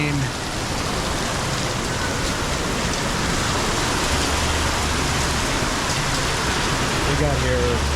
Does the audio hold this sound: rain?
yes